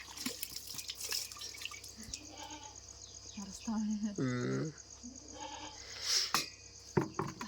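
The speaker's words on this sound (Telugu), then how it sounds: "ఉదయాన్నే మేకలన్నీ అరుస్తా ఉన్నాయి." Goats bleating in the morning in a village setting, a few short bleats among dripping water and quiet background activity.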